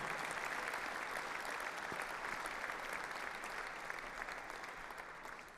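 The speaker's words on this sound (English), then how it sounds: "giving them a round of applause and thanking them for being here" A breakfast audience at a college football coaching award event applauds, a full, continuous round of clapping heard at a distance that holds steady and then gradually tapers off near the end.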